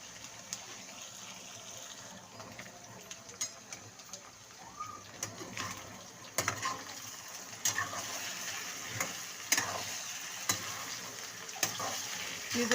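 Potatoes frying in a pan on high heat for aloo fry, a steady soft sizzle with intermittent scraping and clinking from stirring, moderately close.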